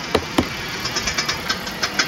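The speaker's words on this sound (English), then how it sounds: "Engine, a lot of power in there" Car engine fitted with a nitrous oxide pre-booster turbo and a cycloid supercharger, running with a rough rhythmic knock of regular pulses at close range, no talking.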